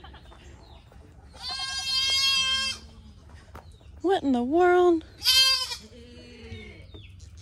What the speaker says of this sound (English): I hear a goat over here.